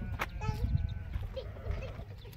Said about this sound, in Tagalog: Oh, daming kambing.